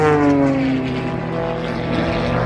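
Propeller engine of an aerobatic aircraft flying a torque roll at an airshow, a loud, steady droning tone with strong harmonics that shifts slightly in pitch and holds continuously throughout.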